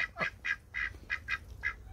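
A male black chocolate runner duck gives a run of soft, raspy calls, about six short bursts in a steady rhythm, close by with faint outdoor rumble beneath.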